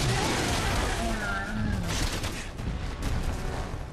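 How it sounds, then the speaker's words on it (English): Pistol fire switched to three-round burst in Resident Evil 6, rapid gunshots buried in a dense, loud wash of game noise and explosions with voices talking over it. "the thing about Sherry's pistol is that you can switch between, three-round burst and single shot"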